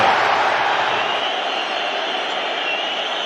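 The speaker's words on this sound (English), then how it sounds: "The Anfield crowd trying to alert Gakpo to that" Home supporters at Anfield raise a loud, sustained roar of shouting during a Liverpool versus Arsenal football match, a dense wall of crowd noise with no breaks.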